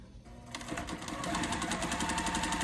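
A sewing machine chain-pieces quilt blocks, its needle running in a steady, fast continuous whir that starts after a brief quiet moment and holds at a close, even level.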